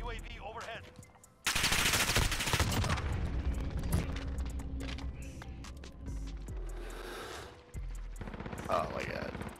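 Close, loud automatic fire in a Call of Duty free-for-all match, coming as long rapid bursts with short pauses between them, mixed with game sounds and some speech.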